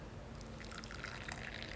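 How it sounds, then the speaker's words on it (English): Hot water poured into a cup while making tea from a Dutch 24-hour field ration, a quiet steady trickle and splash running alone throughout. "And now let's bring some hot water."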